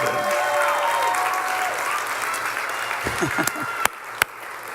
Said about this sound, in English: Give Jesus a big clap offering